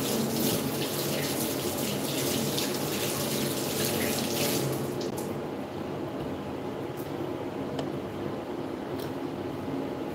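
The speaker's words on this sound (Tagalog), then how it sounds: "Hugas muna ako ng kamay." A tap runs steadily while hands are rinsed under it, a continuous close splashing rush that softens slightly partway through, with a few faint knocks and no talking.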